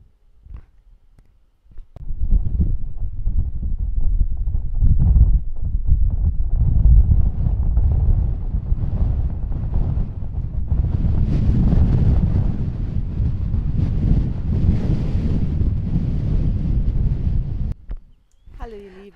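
Strong wind buffets the microphone on a cloudy day in open landscape, a loud steady rumble that starts after a quiet moment and runs for about fifteen seconds before dropping away.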